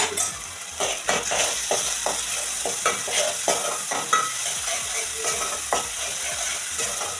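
Agri masala being stirred as it fries in a pan, with a steady sizzle punctuated by frequent scraping and knocking strokes of the spatula, close up and with no one speaking.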